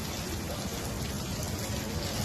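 Heavy rain hammers steadily onto a lone car in a parking lot, a dense, continuous close-up roar of drops with no pauses throughout.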